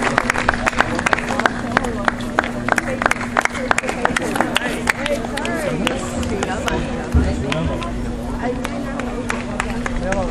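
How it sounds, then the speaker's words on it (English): A crowd at a women's night doubles awards presentation claps for the winners, with scattered sharp claps over steady chatter and voices, while a low constant hum runs underneath. "Let's give them a big round of applause."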